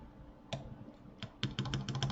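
Typing on a Klippe mechanical keyboard with a DZ60 PCB, Zealios 65g tactile switches and a brass plate: a few separate keystrokes, then a quick cluster of crisp, clacky presses, close and clear with no voice.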